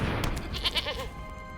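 A goat bleats in the MTG Arena card game, a short wavering game sound effect with a couple of quick pulses over a steady background of game music.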